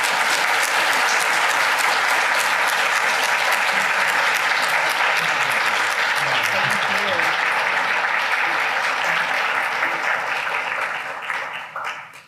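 Lecture audience applauding a speaker being welcomed to the podium, dense sustained clapping that fills the hall and then tapers off at the end.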